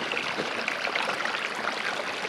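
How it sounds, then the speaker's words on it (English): Runoff water spills off the edge of a field into a rock-lined drainage ditch after rain, making a continuous close rushing and trickling with no voices. "where the water's coming off the edge of the field"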